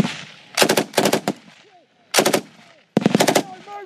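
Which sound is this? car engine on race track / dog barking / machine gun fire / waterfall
machine gun fire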